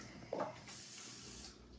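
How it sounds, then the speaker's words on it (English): A pressurized kitchen spritzer releases a steady hissing spray after a short sharp burst, continuing alone at moderate level for about a second before tapering off. "you're just going to spray it in there. So this is called the kitchen spritzer."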